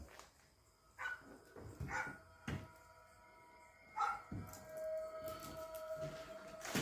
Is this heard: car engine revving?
no